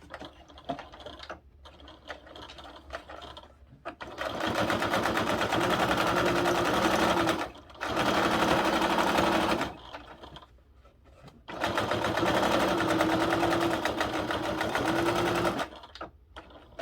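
A sewing machine runs a quarter-inch seam on a fabric billfold wallet in long close, loud bursts with brief stops between, a busy mechanical whir with rapid needle clatter.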